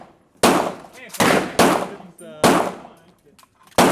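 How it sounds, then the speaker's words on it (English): Five sharp, loud gunshots from a firearm at an indoor shooting range, with some fired in quick pairs and short quiet gaps between them. "So smooth to shoot. Double tap, you stay on the top."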